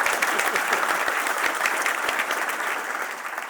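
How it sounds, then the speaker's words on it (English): A room full of people at a breakfast panel event claps for the panelists, with a burst of loud, thick applause and sharp individual claps up front, then a gradual easing off. "Can we get a round of applause for our panelists today?"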